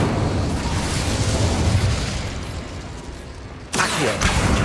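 Fire spell cast in a wizarding-school adventure game, a roaring whoosh of flames followed by a sharp bursting flare near the end, loud and close.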